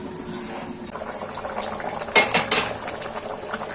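Fish curry (chepala pulusu) bubbles in an open pot with a soft, continuous simmer. A few light clinks of a utensil against the pot cut in partway through.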